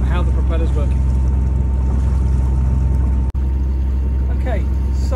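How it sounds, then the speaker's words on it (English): Steady, loud drone of a sailboat's inboard engine driving a Bruntons Autoprop propeller, shifting from idle toward full astern with one brief dropout, while someone talks over the running motor. "go to idle, count to one, and then go full astern"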